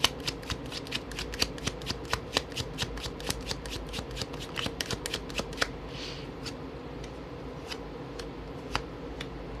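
Tarot cards being shuffled close by, a rapid run of crisp riffling clicks that thins to sparse single snaps toward the end, with no voices.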